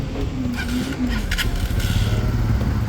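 A motorcycle engine, ridden in a beginner rider's practice session, idling and running in a steady low rumble at close range, with no talk over it.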